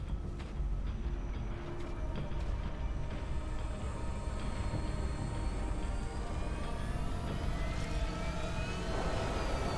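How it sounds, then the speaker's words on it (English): Game-world jet engine in Halo 3 sustaining a steady roaring rumble, with a rising whine sweeping upward near the end as it powers up, loud and continuous with no speech. "It retreats when the jet fires up."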